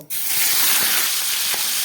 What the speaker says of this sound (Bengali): এই তেলের মধ্যে আমি কয়েকটা চিংড়ি মাছ ভেজে নেব